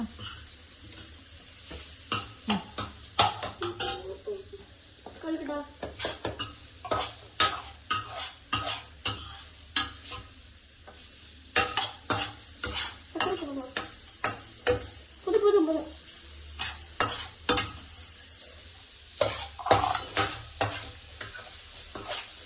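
Food in a pan is stirred and mixed with a spoon in repeated scraping, clinking strokes over a low sizzle, while voices talk intermittently nearby.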